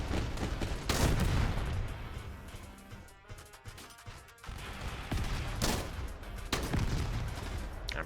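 Grenade explosions in the video game Mech Havoc, a dense barrage of loud booming blasts and crashing bursts, with several heavy impacts spread across the stretch and a brief quieter lull in the middle.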